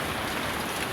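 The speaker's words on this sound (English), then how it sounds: "Some rainy weather at Lake Brockman" Heavy rain pours steadily at a campsite at Lake Brockman, a dense, even hiss of drops striking surfaces close by, loud and unbroken for the whole moment.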